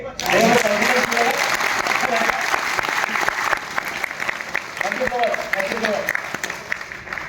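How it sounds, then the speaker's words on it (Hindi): An audience at a regional sales meeting claps together, a steady wash of applause starting strongly then thinning slightly, with some voices and murmur mixed in beneath the clapping. "बोर्ड अगर नहीं कर रहा हूँ थोड़ा ताली बजाइए"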